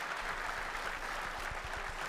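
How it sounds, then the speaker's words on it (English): Crowd applause at a live Warhammer Age of Sigmar reveal during Warhammer Fest 2023, steady clapping filling the whole short stretch at moderate distance. "round of applause"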